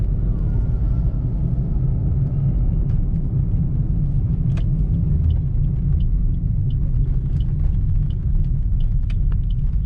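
A car engine hums steadily while driving along a plain road in third gear, a loud, continuous low rumble with faint road and cabin noises and no voices.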